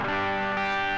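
An electric guitar chord rings through a Boss DS-1 distortion pedal, sustained and dense with a buzzy, saturated edge, heard alone for about a second.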